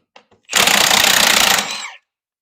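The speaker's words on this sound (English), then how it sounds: "We'll start with pulling the wheel and tire, and we'll go from there." A loud impact wrench rattles in one burst of about a second while pulling the wheel and tire off a car, preceded by two faint clicks and trailing off as it spins down.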